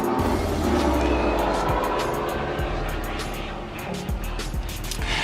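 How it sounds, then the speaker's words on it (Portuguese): A truck rumbles past close by, a loud, steady low engine roar that swells and slowly fades over several seconds, with no talking. "Espera o caminhão."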